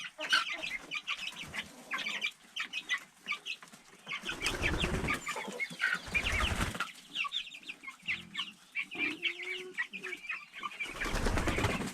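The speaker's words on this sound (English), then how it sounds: "There are a few silkies in there, the rest are Easter egg or Easter egg cross." Silkie and Easter Egger chickens cluck and chatter in a coop, with overlapping calls, soft murmurs and occasional wing flaps, close and fairly busy throughout.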